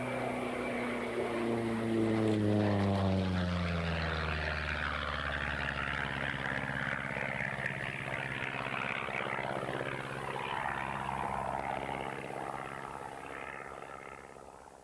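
A Lancair propeller airplane flies past, its engine drone rising and then sweeping down in pitch as it passes close by, then fading into a steady distant hum.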